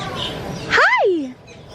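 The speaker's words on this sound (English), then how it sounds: "You see a bird, Landon?" A bird gives a single rising then falling whistled call up close at a zoo, loud and lasting under a second, over a soft background of crowd murmur.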